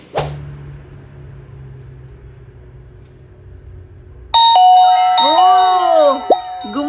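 After a quiet stretch with a faint hum, an electronic chime starts suddenly and plays a warbling, sliding tone pattern, loud and close.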